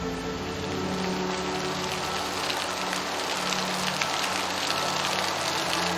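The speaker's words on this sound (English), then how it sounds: "The rain continues to fall heavily on the team" Heavy rain pours steadily onto a forest, a dense, unbroken hiss of drops on leaves and ground that stays loud and even throughout.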